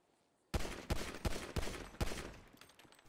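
Gunfire in Grand Theft Auto V during a snowy winter mod mission: a burst of about five sharp, loud shots in quick irregular succession after a brief silence, each trailing into echo, with no talk.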